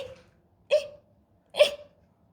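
A voice imitates two hiccups, sharp vocal hics spaced about a second apart, each with a short voiced tail, close and fairly loud against a quiet background.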